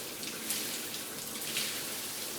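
Water pouring steadily from an all-metal shower faucet, a dense, even hiss of flowing spray with small splashy surges, heard close and alone without talk.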